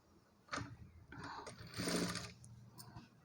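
A sewing machine top-stitches folded blouse cloth in brief, uneven bursts, with a short whirring run near the middle among soft handling sounds, close and fairly quiet.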